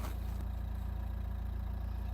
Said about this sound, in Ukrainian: Послухаємо, як працює двигунчик.